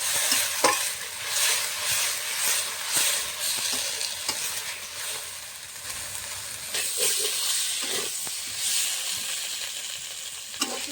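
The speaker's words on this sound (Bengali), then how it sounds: "বেটে রাখা মশলাটা দিয়ে দেবো আদা জিরে লঙ্কা আলুটা কষিয়ে নেবো ভালো করে" Potatoes being stir-fried in a pan with ground ginger, cumin and chili paste for an Indian fish curry, a steady close sizzle with repeated spatula scrapes and knocks, no talking.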